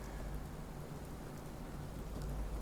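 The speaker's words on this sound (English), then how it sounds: "it's raining right now" Steady rain hisses in Fallout 4, a soft even downpour of moderate loudness with no voices over it.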